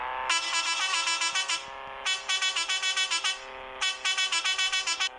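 A car horn blares in three bursts, each a rapid stutter of repeated honks, loud and close with short pauses between.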